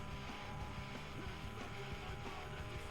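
Car engine in the Need For Speed Most Wanted racing game, a steady droning rumble that holds at an even level throughout, fairly quiet and without talk.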